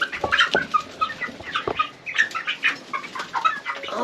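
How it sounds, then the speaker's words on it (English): A flock of mostly roosters with a couple of hens clucks and squawks close by in a yard, with overlapping calls and occasional wing flaps in an uneven, busy rhythm. "Looks like they're mostly roosters and I just got 2 hens."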